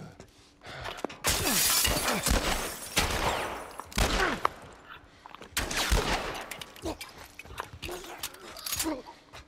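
Gunfire bursts in The Last of Us Part I on PS5, loud sharp shots in several clusters spread across the stretch, mixed with game noise and scattered voices.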